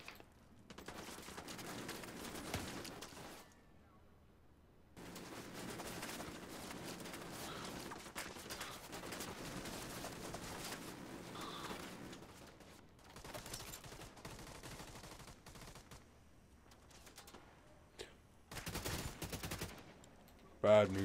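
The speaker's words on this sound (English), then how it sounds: "And I've got a massive turret guy shooting us." Turret gunfire in The Division 2, sustained bursts of rapid automatic shooting broken by short pauses, fairly faint and steady, with louder shots near the end and some voice chatter mixed in.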